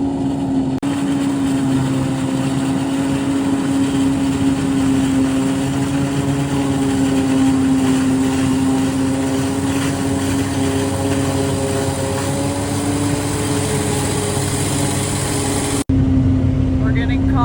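A forage harvester's large engine drones continuously with a steady humming pitch during corn silage harvest, loud and unbroken, with faint voices beneath it before it cuts off near the end.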